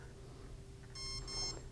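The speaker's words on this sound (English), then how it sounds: "you hear the beeps, now it's armed." Electronic speed controller on a radio-controlled model emits a short run of clear, steady arming beeps after the throttle drops to idle, sounding alone over a low constant hum.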